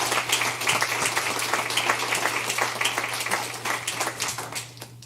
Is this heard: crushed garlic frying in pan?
no